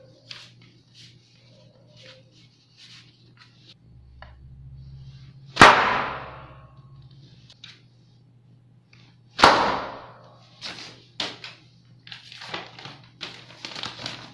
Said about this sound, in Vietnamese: Rồi, bây giờ mình sẽ nổ đến cái pháo đại này. Cái này là bằng một tờ giấy đôi.